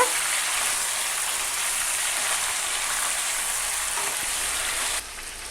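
Vegetables for sambar cook in oil in a pan, giving a steady, dense hiss throughout that drops away abruptly near the end, close with no voices.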